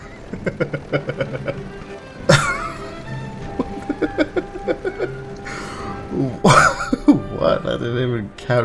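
Repeated coughing fits from a character caught in gas in the video game Warzone, mixed with speech, rough bursts spread across the clip with brief gasps between them.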